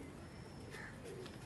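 Pigeons, some trapped down below and disturbed, coo softly and faintly in a couple of short low calls over a steady background hiss.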